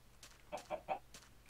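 A chicken in Minecraft clucking, three short quiet clucks in quick succession followed by two softer ones, heard alone without talk.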